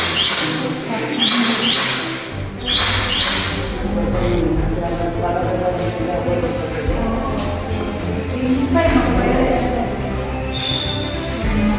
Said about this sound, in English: when migratory birds from all over the world make this their temporary home